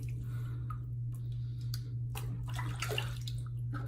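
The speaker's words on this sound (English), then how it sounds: "Wash my hands off over here." Hands are washed under running water after shaving with soap, giving intermittent splashes and gushes over a steady low hum, moderately quiet and with no talking.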